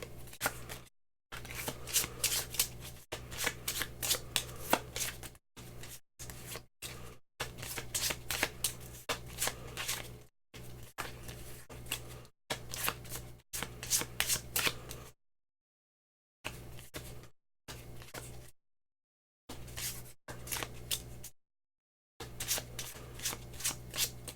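Cards for the Concordia board game are shuffled by hand in repeated riffling bursts broken by short pauses, close and fairly quiet, with no talking.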